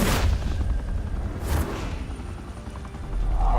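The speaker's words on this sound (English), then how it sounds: "Why did they shoot at me?" Gunfire from Batman: The Telltale Series, with sharp bursts at the start and again around one and a half seconds, fairly loud against a rumbling action backdrop.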